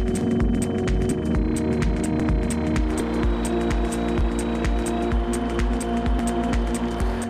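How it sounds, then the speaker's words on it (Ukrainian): Lexus LS luxury sedan engine and road noise at speed, a steady loud droning hum with throbbing low rumble and tonal whine, shifting slightly partway through as the car accelerates toward 250 km/h, no talking. "Натиснувши на педаль акселератора без зайвих роздумів, ЛС опиняється на позначці 250 км на годину"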